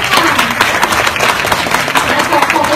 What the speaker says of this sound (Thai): ต้องขอเสียงปรบมือให้กับทีมทีมแพทย์ค่ะ